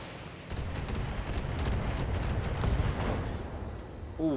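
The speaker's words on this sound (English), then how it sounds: "LRM explosion now" LRM missile ammunition exploding in the Battletech video game, a rumbling, crackling blast of muffled booms and pops that swells for several seconds, with no voices.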